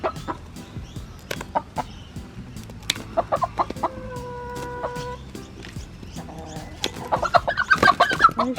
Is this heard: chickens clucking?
yes